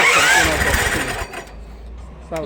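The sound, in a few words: engine of a belt crusher machine starting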